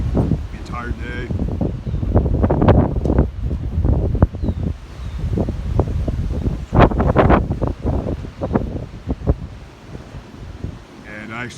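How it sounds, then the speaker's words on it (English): Strong windstorm gusts roar through trees during an intense storm, with loud buffeting and rustling that rises and falls, wind noise hitting the microphone, and a person talking through much of it. "it's just been increasingly windy the entire day"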